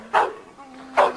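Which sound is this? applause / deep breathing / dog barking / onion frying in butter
dog barking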